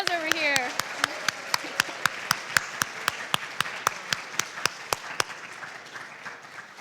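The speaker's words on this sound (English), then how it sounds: "another round of applause over here?" Audience applause at a high school poetry recitation contest, a steady crowd of clapping with sharp regular claps punctuating it. A voice speaks briefly at the start and the applause slowly thins toward the end.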